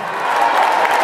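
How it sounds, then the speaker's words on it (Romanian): Crowd at an International Women's Day evening event at Bamboo applauding and cheering for the mayor, Nicolae Omțeanu, a steady dense wash of clapping and whoops lasting about a second. "să aplaudăm pe domnul primar Nicolae Omțeanu!"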